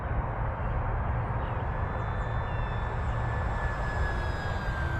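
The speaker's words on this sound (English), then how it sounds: "let's do a low flyby here." An FMS Cessna 182 1.5m RC plane making a low flyby, its motor a steady droning whine with a thin tone gliding slowly upward over a constant rushing background.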